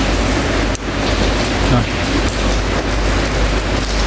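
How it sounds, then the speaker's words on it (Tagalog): Steady heavy rain pours in a constant dense hiss, close and loud, with no pauses. "Hindi natin alam kung ilang araw yung ulan na yan."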